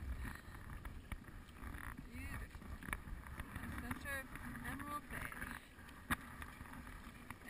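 Kayak paddling out of Emerald Bay near Fannett Island, with soft rhythmic water strokes and splashes under steady wind, and occasional voices nearby.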